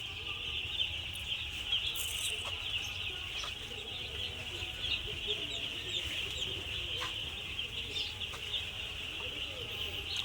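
Many chicks peep and cluck constantly close by while feeding, a dense high chorus with soft pecking taps underneath.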